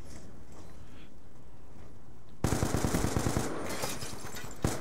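Rapid bursts of automatic gunfire in a video game shooter suddenly burst in halfway through, loud and close, with repeated sharp shots in quick rhythm after a quiet stretch of game ambience.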